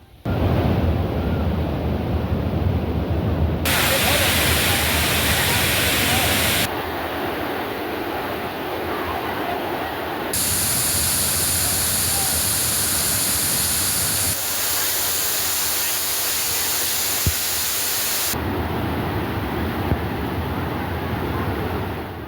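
Broad, steady roar of water gushing forcefully at Thirparappu falls, continuous and loud with shifting intensity across cuts and no talk, like heavy water crashing into a pool.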